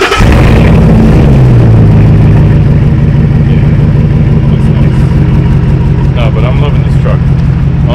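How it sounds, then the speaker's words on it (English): A stock-bodied Ford Ranger pickup with an aftermarket muffler, its engine revving up and then settling into a steady, loud, throaty rumble close by. The sound runs without pause throughout. "He did do a muffler, I believe, but I'll let you guys hear that."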